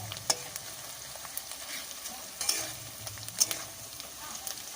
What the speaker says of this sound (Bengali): আর এই দেখো কড়াতে এদিকে মশলাটা কষা হচ্ছে